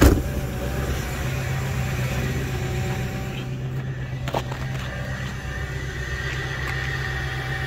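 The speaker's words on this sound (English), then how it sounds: "Ooh, she fired right up." A Ford Powerstroke diesel truck engine idles steadily right after a cold start in 11°F weather, a loud, continuous low rumble with a constant throb and some faint clatter, running alone without talk.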